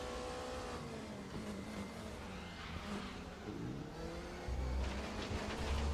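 Porsche race car in the RaceRoom racing game, its engine droning and revving through the gears with a steady mid-pitched tone, then a louder rumble surging in near the end.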